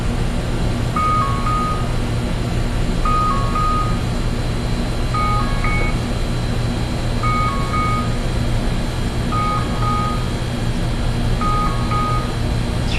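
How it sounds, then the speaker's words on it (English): A phone alarm repeats a short melodic beeping pattern about every two seconds, fairly faint over a constant low engine-like hum, with no talking. "I must have an alarm on this to remind me of something"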